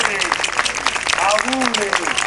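Audience clapping for dancers at an Italian event, a steady patter of hands under a loud voice speaking through a sound system.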